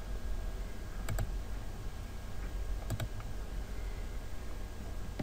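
Computer keyboard typing during a Revit drafting session, with two quick pairs of sharp key clicks over a steady background hum, close and fairly soft.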